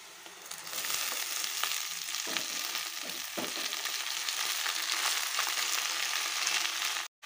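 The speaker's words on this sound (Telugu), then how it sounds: "ఉల్లిపాయలు బాగా వేగినాయండి ఇందులోకి మనం కడిగిన తోటకూరని వేసేసుకోవాలి" Washed amaranth leaves hit hot oil with fried onions and set off a loud, steady sizzle of frying. The sizzle runs unbroken for about seven seconds, with a few stirring scrapes, then cuts off abruptly near the end.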